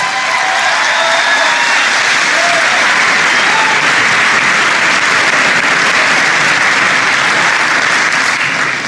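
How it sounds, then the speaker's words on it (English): A large crowd at a New Hampshire primary concession speech breaks into dense, sustained applause with some cheering, loud and steady for the whole stretch. "Give her a big round of applause."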